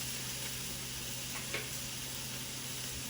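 Garlic sizzles in a pan during the cooking of paprika honey garlic wings, a steady, close frying hiss that runs the whole time with a brief stir at mid-point and no talking.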